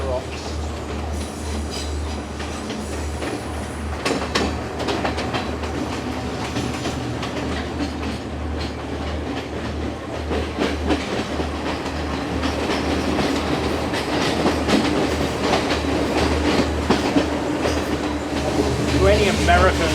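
A train running from Colombo to Kandy in Sri Lanka rumbles and clatters along the rails with rhythmic clicks and occasional wheel squeal, heard from inside a carriage. The sound swells gradually and a voice speaks now and then.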